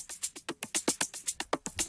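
Percussion loops in an electronic track, a quick steady pattern of bright shaker-like hits with soft lower thumps, about a dozen evenly spaced pulses, fairly quiet and without voices.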